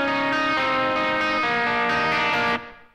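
Electric guitar played through a parallel effects path, blending a clean tone with crunchy distortion. Sustained chords ring for about two and a half seconds, then stop sharply and decay.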